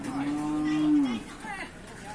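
A single long moo from a bovine at a Thai cattle market, steady and fairly close for about a second, then fading into quieter market background.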